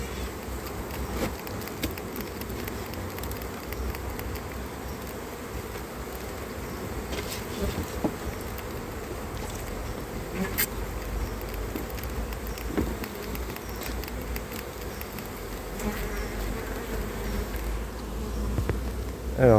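Honeybee swarm colonies droning steadily around their hives in a French apiary, a dense continuous buzz with occasional closer bees zipping past, no talking.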